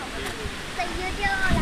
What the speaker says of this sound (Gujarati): તમે જોઈ શકો છો કે પાણી ધીરે ધીરે પાછું જઈ રહ્યું છે